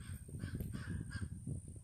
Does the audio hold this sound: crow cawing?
yes